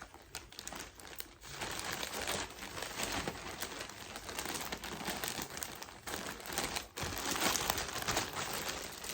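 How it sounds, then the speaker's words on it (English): Plastic bag crinkling and rustling continuously as items are packed into it while sorting a storage box, close and fairly loud with no talking. "So let me put those back in plastic bag."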